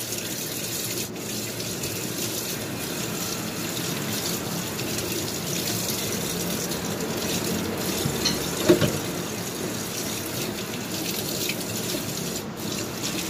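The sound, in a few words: rinsing kitchen utensils under running tap water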